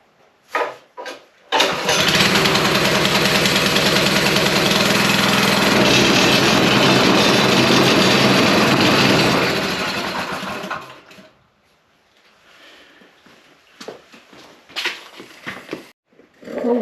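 A Wacker packer plate compactor's small engine, just after a valve adjustment, catches after a few sputters and runs loud and steady for several seconds before dying away, leaving quiet handling noises and a few clunks.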